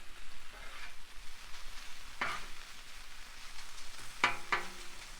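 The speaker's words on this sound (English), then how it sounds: "And then you want the bacon like sort of semi-crispy. So just keep on cooking them." Bacon cooks on a Blackstone griddle with a low, steady sizzle throughout, broken by a few sharp metallic scrapes or stirs near the middle and end.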